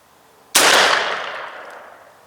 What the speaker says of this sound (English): We're going to try 30 yards with the Stevens 301 Turkey.